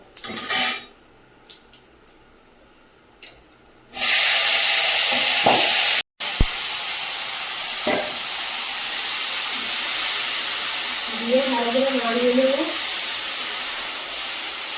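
Boiled jujube plums are tipped into spices frying in a pan for a homemade pickle, setting off a sudden loud sizzle that settles into a steady hiss.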